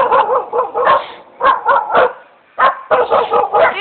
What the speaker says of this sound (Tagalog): Sila ay tumatahol.